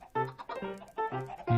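Chickens in a blocky video game, likely Minecraft, cluck in several short, close, clear bursts in quick succession.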